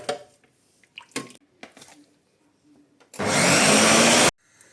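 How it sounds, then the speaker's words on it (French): A blender purées cooked pumpkin and butternut squash into a smooth soup, roaring loudly for about a second before cutting off, after quieter kitchen clatter and handling noises. "je vais venir retirer nos légumes pour les mixer."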